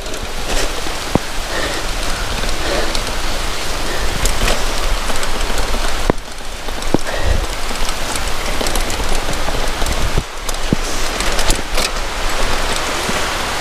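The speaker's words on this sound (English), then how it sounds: "It started raining so hard." Heavy rain pours down hard and close, a dense continuous roar of drops pattering on surfaces with occasional louder splats.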